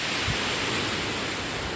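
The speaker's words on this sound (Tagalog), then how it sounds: "Naririnig nyo ba yun guys? Sobrang nakaka-relax yung alon niya. Lakas ng hampas." Ocean waves crashing on Amper beach make a loud, continuous roar of surf, a dense wash of broadband noise with no talk.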